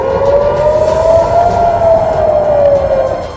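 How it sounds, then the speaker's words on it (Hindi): Air raid warning siren at Tel Aviv airport, one loud sustained wail that rises and slowly falls, heard alone without talk. "वहां हमलों की चेतावनी के सायरन बजने लगे"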